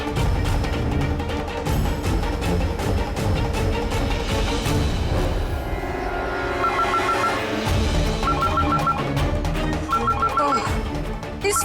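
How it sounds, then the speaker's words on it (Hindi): A telephone bell rings in short repeated bursts over loud, dense dramatic background music in a Hindi TV serial scene, the trills rising above the score several times. "इस फोन को भी अभी बजना था"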